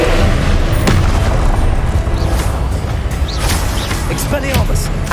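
Confringo fire spell blasts in Hogwarts Legacy, a dense barrage of booming explosions and crackling spell impacts over a constant loud wash of game noise and music, with a voice shouting spell names throughout.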